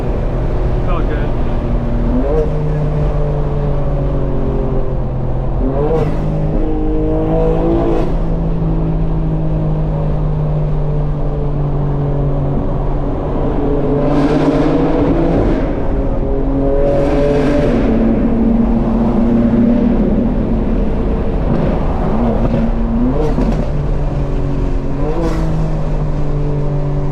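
A 900 hp 2025 BMW M4 Competition xDrive with launch control accelerates hard through its gears in all-wheel drive, its engine note climbing and dropping at each shift under a steady roar, while a driver talks over it.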